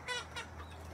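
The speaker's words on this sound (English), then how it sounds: "that sounded like one of our young roosters. They really don't know how to crow yet." A young rooster makes an unpracticed attempt at crowing outdoors, producing one brief, close, squawky call broken into a couple of strained bursts.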